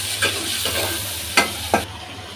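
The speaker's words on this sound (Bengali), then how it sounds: "উল্টায় পাল্টায় নেড়ে দিই একটু। এদিকে আবার মশলাটা পুড়ে যাচ্ছে।" Spices sizzle with hilsa fish and pumpkin leaves in a frying pan, stirred and turned by a spatula that scrapes three or four times over a steady close hiss; no talking.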